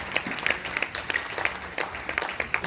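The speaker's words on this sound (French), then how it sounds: "Est-ce qu'on peut acclamer la parole?" A church congregation applauds and cheers after a Bible reading, a dense steady patter of clapping at moderate distance.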